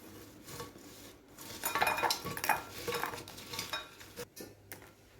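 Fried snacks are tossed with salt and spices in a bowl, giving close rustling, crunching and the clatter of a utensil against the bowl for several seconds, then a brief pause.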